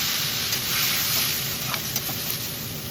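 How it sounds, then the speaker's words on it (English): Chopped tomatoes sautéing in a pan for malai kofta, giving a steady bright sizzle with a few soft stirring knocks, close and uninterrupted by any voice. "Add the tomatoes and saute for another 1-2 minutes."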